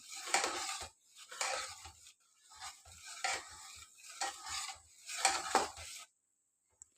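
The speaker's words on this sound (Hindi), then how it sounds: "इसको मैं अच्छे तरीके से इसमें मिक्स कर लूँगी" A spoon stirring salt into pilaf in a pot, heard as repeated scraping strokes in bursts over about six seconds, close and moderately loud, then near silence.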